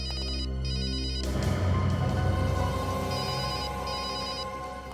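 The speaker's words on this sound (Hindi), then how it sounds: "फोन कहाँ बज रहा है?" A telephone rings with a repeating electronic trill pattern, bursts of high warbling tones starting and stopping over a dense background score, heard during a police drama scene.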